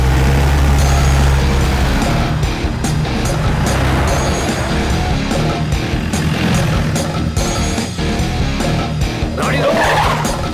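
A car pulls away in a hurry, its engine revving and tires scuffing across the ground in a loud, continuous burst.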